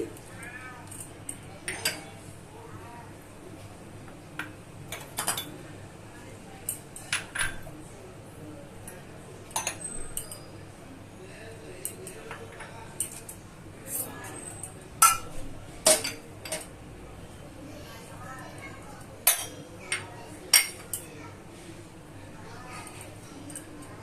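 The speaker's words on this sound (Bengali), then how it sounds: "মাংসগুলো আমি মশলা দিয়ে মিশিয়ে নিচ্ছি।" Raw chicken being mixed by hand with spices like cumin and coriander in a bowl for a Bengali chicken curry marinade, heard as scattered soft clinks and wet squelching taps against the bowl, with steady faint background noise throughout.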